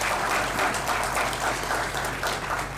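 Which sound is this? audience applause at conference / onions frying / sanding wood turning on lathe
audience applause at conference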